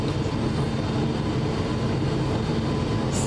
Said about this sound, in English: Megan, this is what it's like to take off on an airplane